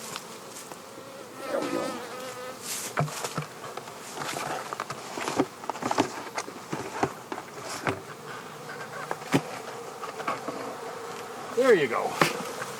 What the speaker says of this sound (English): We're going to get these girls in the hive.